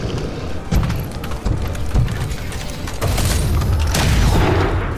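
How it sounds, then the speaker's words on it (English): Squad gunfire in XCOM against an alien creature, several sharp booming shots over a rumbling background, loud and close, no speech. "Lead is gonna once again reload, and he's gonna put fire on that damn creature."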